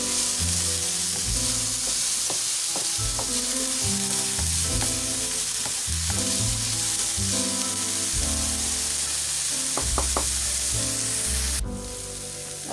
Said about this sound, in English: we're just sauteing for 2 minutes on medium-low heat